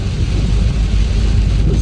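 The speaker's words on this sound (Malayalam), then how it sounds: "ഇന്ന് രാവിലെ തുടങ്ങിയ മഴ" Heavy, steady rain pours down during a cyclone, with deep rumbling thunder rolling underneath; the downpour is loud and close, a constant dense wash of noise with no voices.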